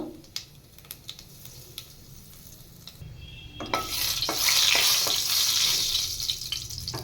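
Nigella seeds drop into hot oil: faint scattered ticks and scrapes first, then a sudden loud hiss that settles into a sustained bright sizzle with occasional pops, close by and with no voices.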